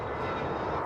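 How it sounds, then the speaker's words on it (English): An airplane in a cartoon gives a steady droning engine roar, loud and constant over the short stretch. "Plane hovering in the sky."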